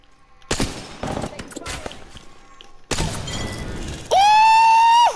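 Gunfire in the battle-royale shooter Apex Legends comes as sharp close bursts and thumping shots in two clusters, followed by a loud sustained electronic tone.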